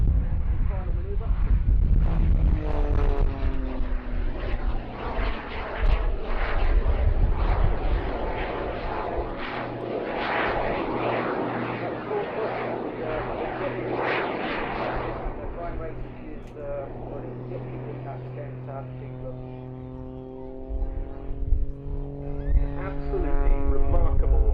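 A jet-powered Pitts aerobatic biplane flies its final manoeuvre at the Duxford summer airshow, with a loud, sustained engine roar that swells and fades as it passes and a commentator talking over it.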